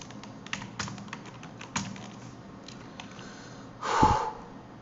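Keys tapping on a computer keyboard while text is entered, a sparse run of light clicks at moderate distance, ending in a louder rustling burst near the close.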